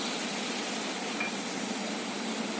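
Ground spice paste sizzles hard in hot oil with cumin seeds and a bay leaf, a dense and steady hiss that stays loud from start to finish with no talking over it.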